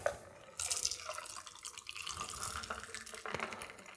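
A cocktail strained from a shaker into a Collins glass filled with fresh ice: a steady, splashy pour of liquid over the cubes that runs for several seconds at moderate volume, with no talking.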